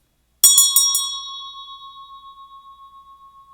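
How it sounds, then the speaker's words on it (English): A bell is rung to clear the energy: three quick bright strikes, close and loud, that blend into one long pure ringing tone slowly fading over several seconds, with no voices. "We're going to go ahead and ring the bell"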